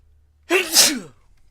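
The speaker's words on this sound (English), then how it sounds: "I'm gonna sneeze." A single loud sneeze bursts out close by after a moment of quiet, with a sharp intake and an explosive release lasting about half a second before fading out.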